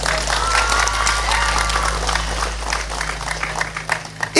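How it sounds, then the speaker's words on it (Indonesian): Applause for students at an Islamic religious sermon gathering, a dense crowd clapping steadily and loudly throughout, with some voices mixed in and a sharp burst near the end. "Tepuk tangan untuk santri."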